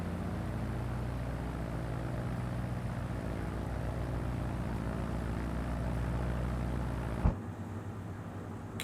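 Steady droning twin piston engines of a Partenavia P-68 in Microsoft Flight Simulator, heard from outside the aircraft, holding an even hum, with a brief click-like transient near the end before the tone shifts.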